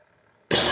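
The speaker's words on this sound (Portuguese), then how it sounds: "vira e mexe, eu vou dar essa tossida aqui" A single abrupt, loud cough bursts out close to the microphone after a near-silent pause, from a speaker with a sore throat.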